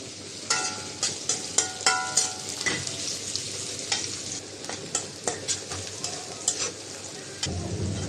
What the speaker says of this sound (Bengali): পেঁয়াজটা হালকা করে ভাজা হয়েছে।